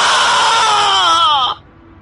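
A loud, drawn-out human scream rings through a room, holding steady then wavering before cutting off sharply, leaving quiet afterward.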